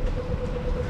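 Train at Galway railway station, a steady low rumble with a sustained tonal hum running throughout, fairly loud and close, with no talk over it.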